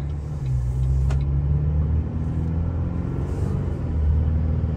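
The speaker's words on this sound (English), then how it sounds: "I just gave her a little bit, like kind of made the truck lug a little bit" A 2.8-liter Duramax diesel pickup engine rumbles low and steady as it lugs under light throttle on a dyno, a heavy drone that swells slightly near the end.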